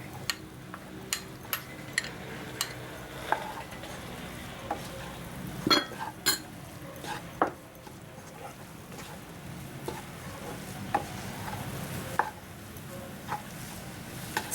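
Boiled minced chicken sautéing in a pan for madakku puri, a soft steady sizzle punctuated by sharp, regular taps and scrapes of a spatula against the pan.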